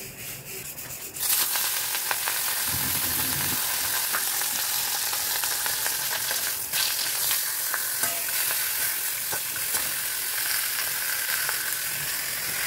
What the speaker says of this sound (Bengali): আমি মাছের ঝোলটা চাপাই, তেল এই দেখো তেল গরম হয়ে গেছে খুব